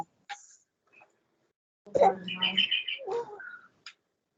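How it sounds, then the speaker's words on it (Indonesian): A bird chirps near a microphone during an online religious talk session: a few short scattered chirps, then a louder burst of tweeting calls with some quieter notes after, no clear speech. "Ini Ustaz terganggu dengan suara burung ini."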